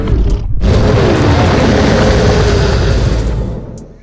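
A dinosaur roar from Roblox Dinosaur Simulator: a brief snort, then a long, loud, raspy bellow with a wavering pitch that fades out near the end, with no talking.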